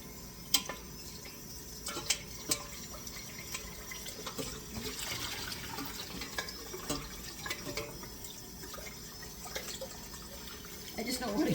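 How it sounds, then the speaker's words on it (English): Water runs quietly from a kitchen tap as a pot is rinsed, with soft splashing and dripping at low volume and a person talking at intervals. "I just don't want to get another pot out, that's why I'm rinsing it"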